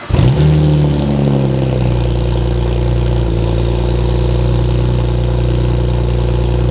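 A BMW car engine idles steadily and close by, a low continuous drone with a brief rise in pitch right at the start before settling into an even hum.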